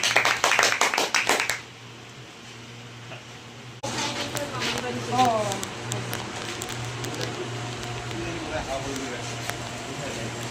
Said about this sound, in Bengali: তন্ময়ের জন্য একটা জোরে হাততালি